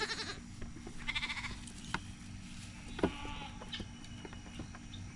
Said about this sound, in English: Baby goats love to play in the baby goat playground.